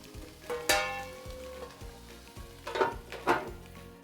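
Courgettes in olive oil sizzle in a pan and are stirred. Several knocks and scrapes of the utensil against the pan stand out over a soft frying hiss, with no talking.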